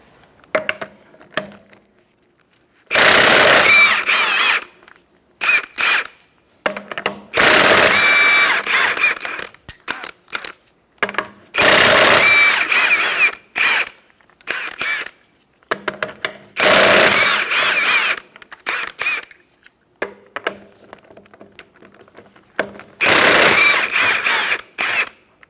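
Impact gun with a 21mm socket pulling lug nuts off a Kia Soul wheel, sounding as five separate loud rattling bursts of a few seconds each, split by quiet pauses with faint clicks.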